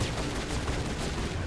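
Rapid automatic turret gunfire in the Mass Effect video game on Virmire, a dense continuous barrage of shots filling the whole stretch at steady loudness with no speech.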